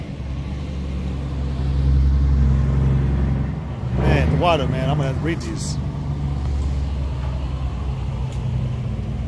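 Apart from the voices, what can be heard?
loud truck driving past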